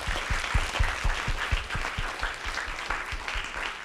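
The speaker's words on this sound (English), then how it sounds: "Let's give a big round of applause to our speakers." Audience at a youth sustainability town hall applauding its panel speakers, a dense, sustained round of clapping with individual claps audible near the front, continuing evenly for several seconds.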